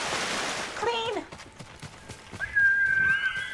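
Horse neighing in the samurai open-world game Ghost of Tsushima, a descending whinny early on and a long high whistle-like call later, over game ambience and background noise.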